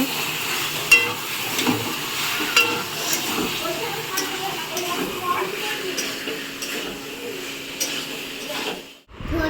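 Meat curry cooks in a pan for a home lunch, giving a steady low sizzle and bubbling with occasional stirring clinks. It runs throughout and drops out abruptly at the very end.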